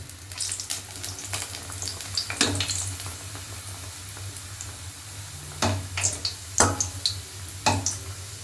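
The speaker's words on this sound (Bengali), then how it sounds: "এটা ডুবো তেলে ভাজতে হবে জিনিসটা" Bengali-style spicy kachori deep frying in oil make a continuous soft hiss, punctuated by sharp clicks and clatters of a utensil at irregular intervals, close by and with no voices.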